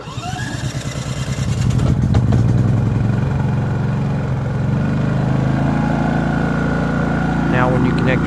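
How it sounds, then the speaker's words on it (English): A portable generator plugged into a 20 amp circuit cranks over and settles into a steady, loud, close engine drone, with a person talking briefly over it. "Start your generator up."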